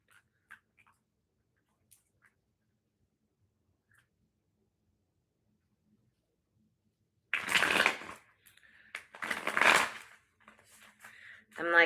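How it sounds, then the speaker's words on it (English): A Wild Unknown tarot deck is shuffled against a leg, giving two loud bursts of papery riffling and rustling followed by softer card handling, after a long near-silent stretch with faint ticks. "I'm like shuffling on my leg."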